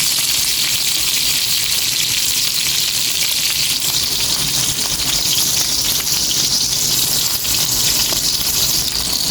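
Tambakol fish frying in hot oil under a lid after being boiled in garlic, pepper and vinegar, giving a loud, steady, dense sizzle and splatter without pause and with no talking.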